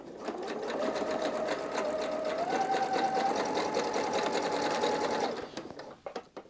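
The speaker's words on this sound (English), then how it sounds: "And we're going to start to sew it now," A sewing machine stitching fabric for a memory foam mattress topper for a campervan runs in one steady whirring run for about five seconds, its pitch rising slightly partway, then stops, followed by a few faint handling clicks.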